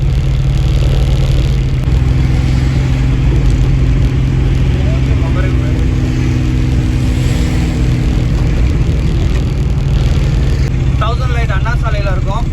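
Road traffic on Anna Salai, heard from inside a moving vehicle: a steady engine hum and road rumble run throughout, with a few distant horn-like tones near the end.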